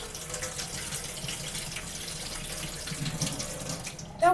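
Tap water runs steadily into a bowl for thawing shrimp, a close, continuous splashing stream that holds even throughout and ends with a brief clatter.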